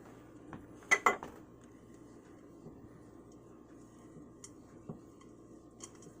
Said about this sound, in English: So I'm going to mix that milk in slowly.